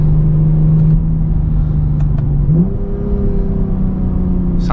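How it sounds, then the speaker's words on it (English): A Lexus IS250 F Sport sedan's engine drones steadily from inside the car while driving, its pitch shifting upward partway through as the revs change, with no talking. "Probably my favorite thing about this car is the sound."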